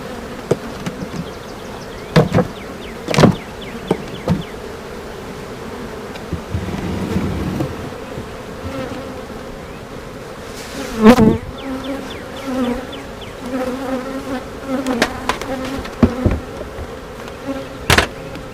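Honey bees buzz steadily throughout a beehive inspection, a dense droning hum punctuated by a few sharp knocks and bumps of hive boxes and frames handled close by.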